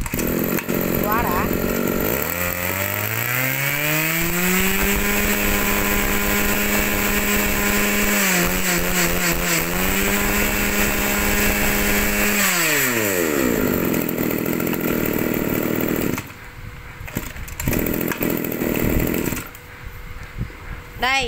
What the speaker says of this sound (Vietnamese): Đây là một tay đua thượng hạng trong làng đua máy cắt cỏ ha, chạy tua siêu lẹ, siêu nhanh